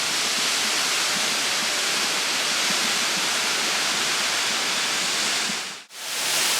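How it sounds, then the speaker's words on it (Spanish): Turche waterfall near Buñol, Valencia, a loud, constant roar of falling water that fills the whole clip, broken only by a brief dip near the end. "Mirad la cascada que hay aquí."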